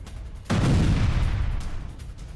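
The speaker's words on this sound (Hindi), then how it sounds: "आर्टिलरी ब्रिगेड ने रॉकेट दागे हैं। होवित्जर तोप से रूसी ठिकानों पर बमबारी की गई है।" Ukrainian artillery firing rockets and howitzer shells at Russian positions: a sudden loud blast that rolls into a deep, rumbling roar and slowly fades, heard alone with no voices.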